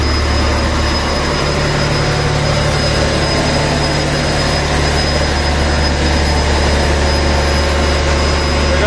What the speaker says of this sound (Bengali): এটা সম্ভবত জেনারেটর,